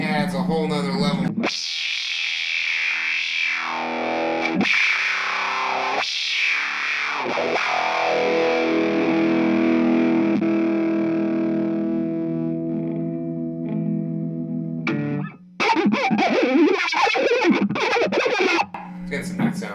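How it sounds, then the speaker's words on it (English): An electric guitar through a Fender pedal with the drive engaged rings out in distorted, effect-laden chords and swelling sustained notes with swooping modulation, loud and upfront, ending with choppier strummed bursts. "But the other cool feature is the drive. 'Cause that really adds a whole nother level."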